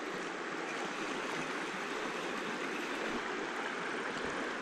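The Howqua River rushes in a steady, dense wash of flowing water close by, an unbroken outdoor roar with no speech.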